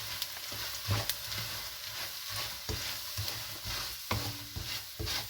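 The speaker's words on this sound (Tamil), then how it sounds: "நல்லா வறுத்துடணுங்க ரவையை." Semolina (rava) being dry-roasted and stirred in a pan for upma, with a steady close sizzle and repeated scraping strokes of the spoon across the metal throughout.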